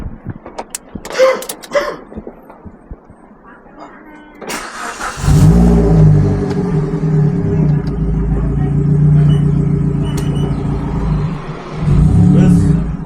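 A 2011 Suzuki Swift ST with a manual gearbox climbs uphill with a loud, low engine roar that rises abruptly after brief quieter sounds and then holds a steady drone, swelling again at the end.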